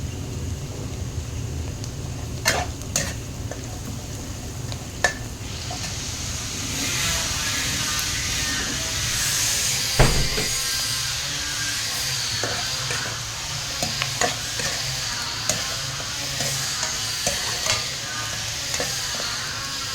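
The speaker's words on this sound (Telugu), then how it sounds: "మంచిగా ఫ్రై అవ్వాలి" Curry leaves fry in hot oil for poha with a constant close sizzle and crackle, broken by occasional sharp spatters and a heavier stirring clunk midway.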